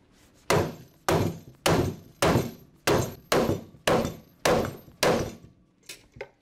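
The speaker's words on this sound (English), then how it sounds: "to make sure that we hit the rivets down into the cups of the plate" Hammer blows drive the rivets of Flexco SR hinged fasteners into the plate cups on a conveyor belt, nine sharp, evenly spaced metallic strikes close up, then two lighter taps at the end.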